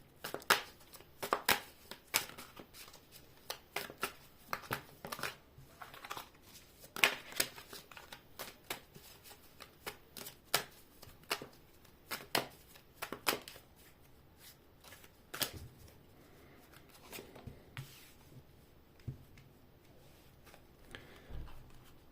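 A deck of cards being shuffled repeatedly, crisp riffling bursts in quick irregular runs with short pauses, close up and no voices.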